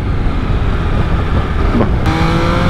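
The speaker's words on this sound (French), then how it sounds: "On va aller se faire un petit 0 à 100." An MV Agusta Turismo Veloce SCS touring motorcycle accelerates hard from a standstill toward 100 km/h on an open road, a loud engine roar climbing through the revs with a quick gear change near the end, mixed with rushing wind.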